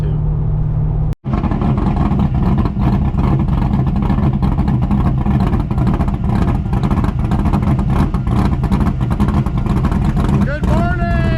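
An old Chevrolet Corvette driving on a rural road past farms and fields, its engine a loud, steady drone heard from close inside or beside the car, with a brief dropout near the start.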